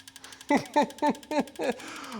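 An MR Cartool V308 fuel injector cleaning machine runs its acceleration test, giving five evenly spaced, close mechanical pulses, each a sharp clicking burst that decays quickly, with no talk.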